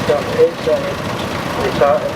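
Ford 2000 vintage tractor at the Great Dorset Steam Fair 2012, its engine idling in a steady low rumble under an announcer talking over a public address system at an outdoor show ring.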